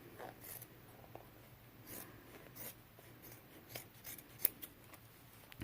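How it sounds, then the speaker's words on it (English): Scissors snip apart the bottom hem seam of a pair of denim jeans for a quilt project. The cuts are quiet and scratchy, coming in an uneven series with one sharper snip near the end. "cut apart this bottom seam on the pant legs. And I'm just cutting that off"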